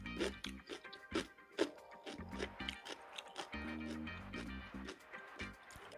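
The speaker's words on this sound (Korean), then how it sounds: "수분기가 쫙 빠진 오이지 씹는 식감 소리를 느껴보세요." Close, crisp crunching bites of firm Korean oiji, a salt-pickled cucumber with its moisture drained out, chewed in an uneven rhythm with wet squishes between bites, no talking.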